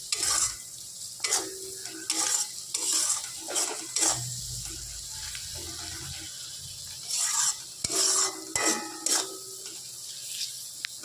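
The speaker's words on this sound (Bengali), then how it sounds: "এবার মশলাটা ভালোভাবে পেঁয়াজের সাথে মিশিয়ে নিচ্ছে" A spoon stirs coriander powder and Kashmiri chili powder into soft onions in a frying pan for a rupchanda fish curry, giving rhythmic scraping strokes over a low sizzle.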